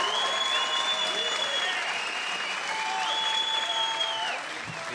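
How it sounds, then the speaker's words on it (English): A large crowd applauds steadily after a three-round combat sports fight, a dense wash of clapping that holds for several seconds before easing slightly at the end. "let's give both fighters a big round of applause"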